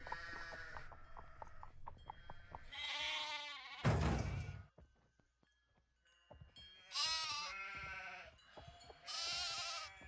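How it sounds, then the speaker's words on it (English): Sheep in the Nancy Drew video game The Haunting of Castle Malloy bleat in a series of loud, wavering cries, several calls separated by short pauses and one rough burst of noise, close and without speech. "you can watch a sheep go crazy"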